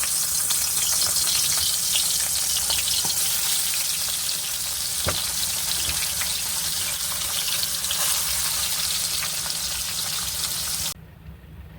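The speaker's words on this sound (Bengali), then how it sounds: "মাছটা ভেজে নিই, তারপরে ঝাল করব।" Fish frying in a pan of hot oil, a loud, continuous dense sizzle with faint scraping from stirring, cutting down suddenly near the end.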